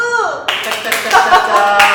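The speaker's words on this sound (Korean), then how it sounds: "여기 계신 분들 모두 박수!" A seminar audience gathered for a talk on real estate auctions breaks into loud, dense clapping that starts abruptly and keeps going steadily, close and full, with a voice trailing off just before it.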